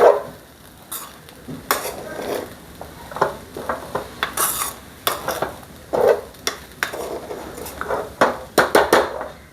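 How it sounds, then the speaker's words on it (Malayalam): A spatula stirs fried rice in a pan, giving a run of scraping clatters and metallic knocks at an uneven, busy rhythm, close and fairly loud, with no voices. "നമുക്കിത് ഇച്ചിരി ഇത് ചേർത്തൊന്ന് ഇളക്കി കൊടുക്കാം"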